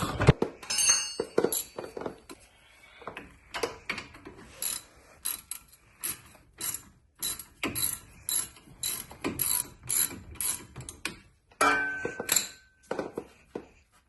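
Ratcheting wrench loosening brake caliper bolts on a 2003–2008 Honda Pilot's front suspension, rapid clicking pawl bursts broken by metallic clinks and thunks, close and moderately quiet, no voices.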